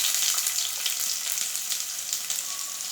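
Onions sizzle in hot oil in a pan alongside cumin and mustard seeds, a steady close frying hiss that runs the whole time with no voices.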